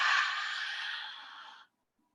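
A single long, deep breath drawn in during a guided breathing exercise, close and breathy, fading gradually before cutting to silence.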